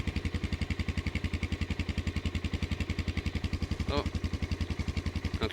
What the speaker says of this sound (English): actually, I've got the engine running, haven't I?